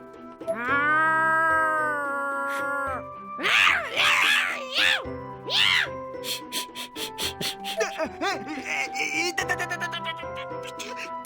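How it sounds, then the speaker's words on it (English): Cat meowing in the Corpse Party horror video game, several drawn-out, wavering synthetic meows and yowls over eerie tonal game music, loud and close. "there's no way this is a real cat I'm hearing"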